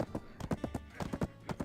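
A horse's hooves clip-clop along in the online game Black Desert, a quick irregular run of sharp close knocks in small clusters, with no talking during the steps.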